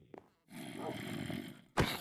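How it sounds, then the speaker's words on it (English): Low, rough groan of a Minecraft zombie, a short faint grunt followed by a sustained mid-level moan and then a sudden louder guttural burst at the end. "Look, a zombie."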